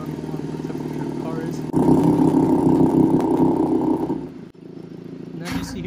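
A 2019 BMW 330i (G20) exhaust rumbles steadily, then grows noticeably louder and deeper for a few seconds once the exhaust valve opens, with someone talking over the engine sound.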